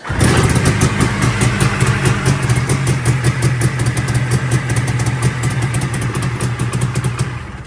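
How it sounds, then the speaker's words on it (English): Fan-cooled small engine started by recoil and running, a loud close rapid putter with a steady idle rhythm throughout and no speech. "Now she fires right up, runs good."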